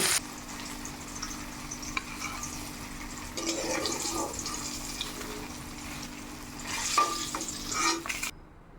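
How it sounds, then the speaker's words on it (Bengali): Hilsa fish frying in oil for a Bengali malai curry, a steady low sizzle with faint clinks and scraping of a spatula, swelling a little louder near the end before cutting off; no one speaks. "এইভাবে আমি সবগুলো মাছকে ফ্রাই করে নেব"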